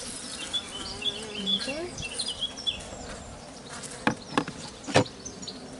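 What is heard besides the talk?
honeybees at a hive being fed syrup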